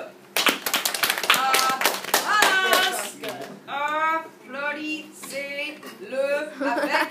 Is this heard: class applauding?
yes